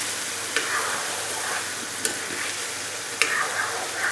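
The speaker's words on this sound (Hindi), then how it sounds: "ये देखिए बहुत अच्छी तरह हमारा चिकन भुन गया है।" Chicken sizzles in a pan for aloo chicken shorba, a steady frying hiss broken by three sharp scrapes and clacks of a spoon stirring the pieces, with no one speaking.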